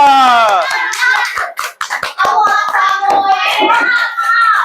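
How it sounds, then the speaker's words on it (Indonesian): A classroom claps for a group of schoolchildren after their presentation. Rhythmic hand claps come in bursts, with a teacher's voice and children speaking over the clapping. "Kasih tepuk tangan dulu untuk kelompok 2."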